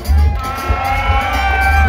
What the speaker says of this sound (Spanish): Aplausos para la número uno